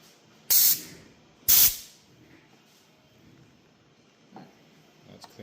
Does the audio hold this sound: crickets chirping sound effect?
no